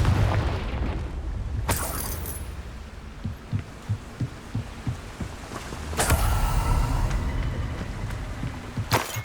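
A Confringo blasting spell explodes in Hogwarts Legacy: two sharp, loud bursts several seconds apart, with a run of rhythmic low thumps in between over a dim rumbling background.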